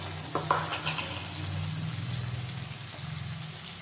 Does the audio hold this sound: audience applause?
no